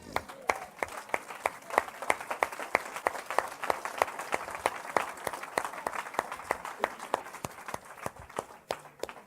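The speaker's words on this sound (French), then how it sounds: "On acclame la parole du Seigneur." Church congregation applauding together in a sustained burst of dense, rapid clapping, with scattered voices underneath and a few louder individual claps standing out throughout.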